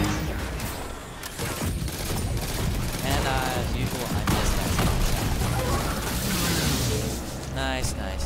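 Prometheus Lens trace rifle firing in Destiny 2, a dense continuous stream of energy-weapon fire and explosions throughout, heard under frequent talking.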